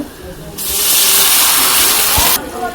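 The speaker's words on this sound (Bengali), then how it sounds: "পরিমাণ মতো পানি দিয়ে দিব কষানোর জন্য" Water hits a hot pan of frying river puti fish and erupts into a loud, steady sizzling hiss that lasts about two seconds before dropping away.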